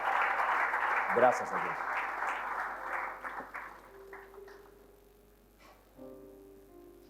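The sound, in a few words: congregation applauding in church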